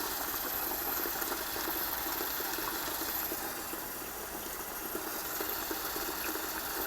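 Tiler's gloves are rinsed in a cleaning bucket of water while laying floor tile in a dining room. A steady sloshing, gushing wash of water carries on close and continuous over a low mechanical hum.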